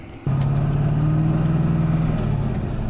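An old Duramax LB7 diesel pickup hauling a dozer at about 30,400 lb gross, engine stuck in limp mode, revs up abruptly into a steady, droning rev that holds then eases slightly near the end, loud and close.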